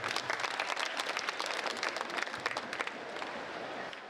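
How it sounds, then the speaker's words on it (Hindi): An audience at a humorous Hindi song performance claps just before the song begins, with bright, busy applause that is strongest early and gradually thins and softens toward the end, with no voices heard. "आप लोग तालियां बजाएं"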